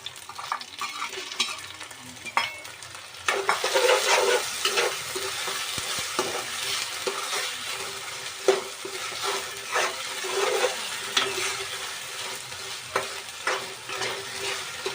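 Tomatoes tipped into a pan of frying ginger-garlic paste, stirred steadily, with a continuous close sizzle and scraping stir strokes throughout and no talking.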